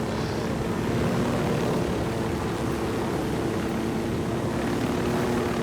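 Helicopter in Ghost Recon Wildlands flying low and slow, a steady droning rotor and engine roar that stays loud and unbroken throughout.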